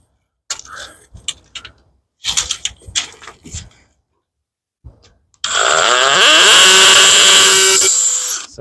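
A hammer drill bores into a window frame while a solar screen is screwed on, starting after short bursts of talk and a few knocks, then running as a loud, steady high-pitched whine for about three seconds.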